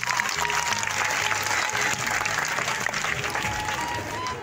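Crowd applause welcoming a speaker at an Independence Day flag-hoisting event in Maharashtra, loud sustained clapping from a large audience with a low hum of crowd noise beneath.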